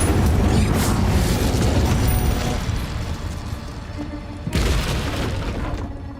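Spell explosions from the Hogwarts Legacy video game roar as loud, sustained blasts with a rumbling tail. A second sharp burst hits near the end.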